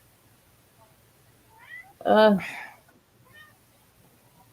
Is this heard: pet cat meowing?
yes